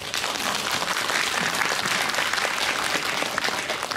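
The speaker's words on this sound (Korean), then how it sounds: "박수 쳐주세요" A cinema audience at a film Q&A applauds in a dense, even wash of clapping that holds at a steady level throughout.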